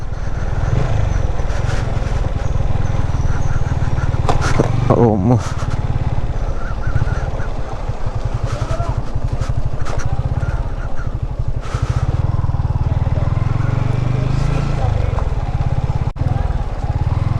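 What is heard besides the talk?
motorcycle being ridden and parked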